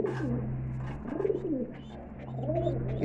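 High-flying pigeons coo softly in repeated rolling phrases over a steady low hum, fairly close and unaccompanied by talk.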